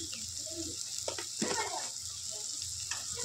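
Spices with turmeric and a spoonful of sugar fry in a pan for Bengali cabbage chorchori, giving a constant close hiss and sizzle with faint stirring scrapes.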